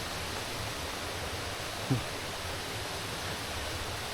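Chan Ta Then waterfall in Chonburi gives a steady, broad rush of falling water, constant and fairly loud, broken only by a single brief knock.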